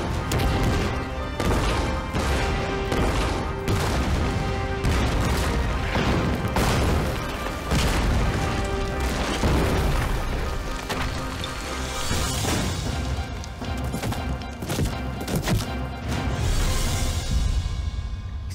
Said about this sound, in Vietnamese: Mấy người đến đây, nghe thấy tiếng pháo.